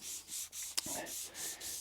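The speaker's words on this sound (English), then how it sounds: "just a regular 1000 grit sandpaper on a cork sanding block, and I'm only going to very lightly sand in the grain direction" Light strokes of 1000 grit sandpaper on a cork block across a lacquered guitar finish, a steady back-and-forth rasp in repeated even passes, close and alone, with one small knock partway through.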